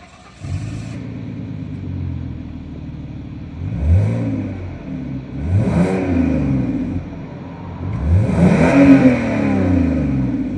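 A 2005 Citroen C6 with a 3.0 V6 petrol engine idles smoothly, then revs up in three rising blips, each climbing and falling back, the last the loudest, with no talking.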